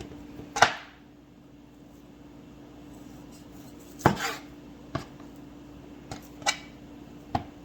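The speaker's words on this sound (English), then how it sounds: "Cut off some of that fat." Sharp knife slicing fat off a marbled cut of beef: a few isolated crisp cuts and taps against the board, spaced irregularly over a quiet, steady background hum.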